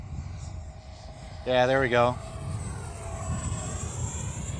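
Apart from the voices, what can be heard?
Freewing Avanti v2 EDF jet RC plane flying pass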